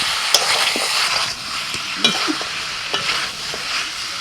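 Chicken stew with spices being stirred in a pan, a steady sizzle broken by scraping strokes and a few sharp spoon knocks against the metal; no one speaks.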